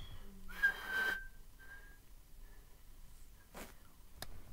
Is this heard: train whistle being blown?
yes